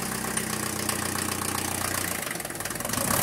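A restored Mercedes W115 diesel idles just after its first start, a loud, steady knocking clatter close to the microphone with a slight dip in tone near the end and no talking.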